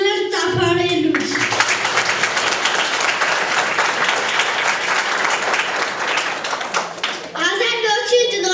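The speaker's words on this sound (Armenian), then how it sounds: "Չծուլանել ծափարելուց։" Loud, dense applause fills a primary school farewell ceremony for a fourth-grade class, starting after a short spoken line and running steadily for several seconds before talk resumes at the end.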